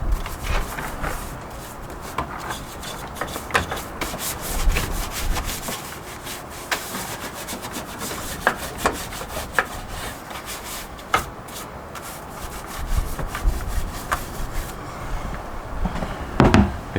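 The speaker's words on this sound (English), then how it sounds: "Give it a scrub with a brush" A degreased Kia engine is scrubbed with a brush, giving steady close rubbing and bristle scratching with occasional sharper scrapes and knocks, continuous throughout with no talk.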